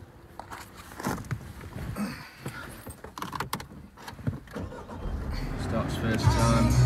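A car engine cranks and catches near the end, settling into a steady low idle after a stretch of close handling noises and clatter.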